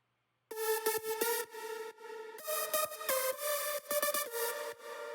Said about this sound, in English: It's like just a very full super saw sound.